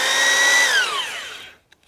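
A Bosch Bulldog Extreme hammer drill runs in spin-only mode with a steady high whine that winds down smoothly and goes quiet, followed by a couple of faint clicks.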